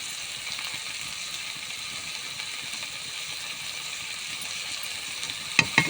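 Fig curry with green chili, tomato and coriander sizzles steadily in a pan, a constant close frying hiss, with a couple of sharp stirring clinks near the end and no talk.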